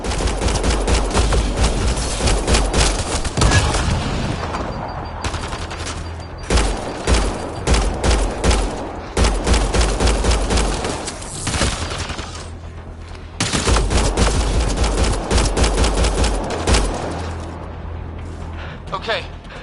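Sustained automatic gunfire rattles loudly in repeated long bursts with booms during a firefight in the sci-fi video game Mass Effect Andromeda, close and dense, with brief lulls and voices shouting between volleys.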